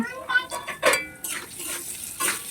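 A spatula stirs potato and bitter gourd with turmeric and salt in hot oil in a pan, giving a few close metallic clinks and scrapes over a faint sizzle.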